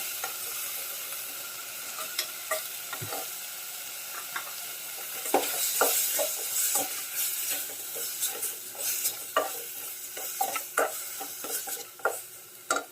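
Pork ribs stir-fried in oil with a little water, a continuous sizzle broken by frequent close scrapes and clanks of a spatula against the pan, growing busier toward the end.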